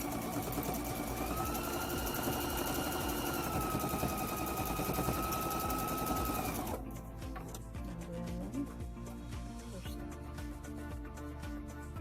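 A sewing machine runs steadily for several seconds stitching a quarter-inch seam on a spiderweb quilt, then stops, leaving quieter background sounds.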